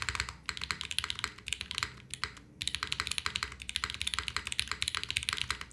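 Steady bursts of keystrokes on a KBDFan KBD8X mechanical keyboard with a long pole spacebar, close and fairly quiet, with a brief pause midway before the typing resumes.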